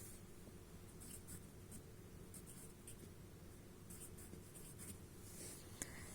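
Pen or pencil writing numbers by hand on paper, a soft continuous scratching close by with small pauses and taps, fairly quiet throughout.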